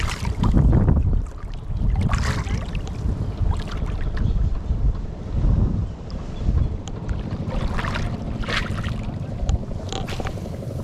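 Wind buffets the microphone on a small boat at sea during a fishing trip, with gusty roaring and waves slapping and splashing against the hull in irregular bursts.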